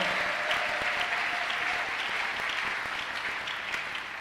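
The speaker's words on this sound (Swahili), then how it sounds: "Tunaweza kuchapa makofi kwa sababu yao." A church congregation claps in sustained, thick applause, a continuous wash of many hands at a steady level throughout, holding fairly loud and even before easing slightly at the end.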